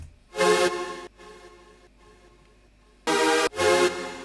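Saw synth group from a brostep track, loud buzzing harmonic bursts that start and stop abruptly, two heavy blasts separated by a quieter sustained tone, rhythmically gated.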